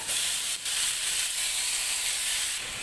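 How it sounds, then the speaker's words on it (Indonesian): Chicken frying without oil in a covered pan, a steady loud broadband sizzle and hiss running throughout with a brief dip near the start and no voices. "ayamnya ini mau aku goreng tapi tanpa menggunakan minyak"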